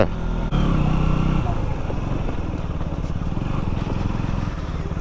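A KTM Duke 200 motorcycle engine hums steadily up close throughout, with a low rumble and a brief dip near the start, as if riding along the road from Pokhara to Walling.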